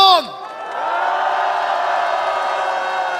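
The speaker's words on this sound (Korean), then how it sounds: "격려의 박수 우리 스스로의 자신의 박수를 한번 보냅시다." A rally crowd at a protest calling for a president's impeachment breaks into sustained applause and cheering, with a loud whoop at the start, then a dense, steady wash of clapping that holds to the end.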